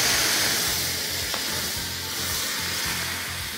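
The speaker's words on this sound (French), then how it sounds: "Il vous suffit de déglacer avec un petit peu d'eau, un petit peu de cognac ou un peu de crème vos sucs dans la poêle." Beef fillet juices hiss and sizzle steadily in a hot Cristel stainless steel pan as they are deglazed with a splash of liquid, a close, continuous frying crackle with a soft rhythmic low churn.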